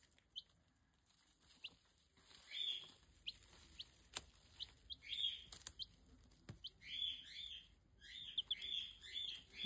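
Week-old chicks chirping in short, high bursts that cluster and repeat, fairly close, over a quiet background with a few soft knocks; someone talks to them softly at times.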